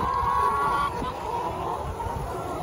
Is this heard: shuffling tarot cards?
no